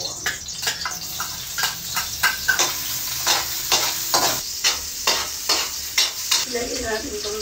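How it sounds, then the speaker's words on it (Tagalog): Onion and garlic sizzle in hot cooking oil, a steady bright frying hiss broken by regular stirring scrapes roughly every half second, close and fairly loud, with no voices. "Ilalagay na natin yung sibuyas tsaka bawang."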